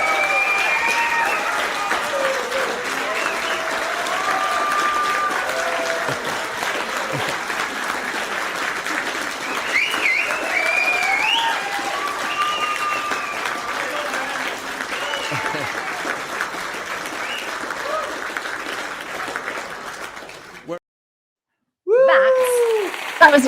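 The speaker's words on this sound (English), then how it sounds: "We've got our own round of applause here." Sustained applause from a gathered audience after a new political party's registration is announced on a live show, mixed with voices and cheering, then a brief silence and a short burst of sound near the end.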